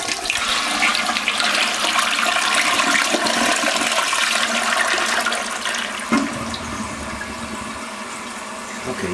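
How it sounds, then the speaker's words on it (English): A Korky 528MP toilet fill valve flushes with a loud rush of water, then the tank refills with a steady hiss and gurgle that keeps going without pause to the end. "So I'm gonna flush it and then let's see what happens at that water level."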